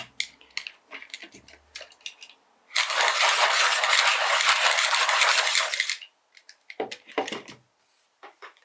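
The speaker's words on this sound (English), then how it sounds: "this Swordfish Icon sharpener" A Swordfish Icon pencil sharpener grinding a Derwent Lightfast coloured pencil, one steady, loud whirring burst of about three seconds, with faint handling clicks and taps before and after.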